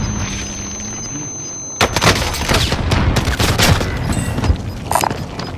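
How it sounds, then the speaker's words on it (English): A stun grenade goes off in the video game Call of Duty: Warzone, a sudden sharp blast followed by a dense burst of crackling bangs and gunfire-like pops that continue for several seconds. "Throwing stun! Stun grenade!"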